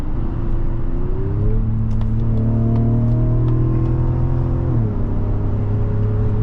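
A 2025 Mazda CX-90's engine rises in pitch as it revs on a downshift, holding a steady, loud, close drone inside the cabin before the revs drop back after a few seconds.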